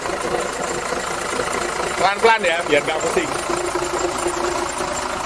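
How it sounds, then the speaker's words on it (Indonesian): A bus engine idles inside its engine compartment with a steady, close mechanical rumble and a brief louder knocking burst partway through, while a person speaks over it. "Anda akan bisa ngelihat gimana dalamnya ruang mesin saat mesin ini bekerja"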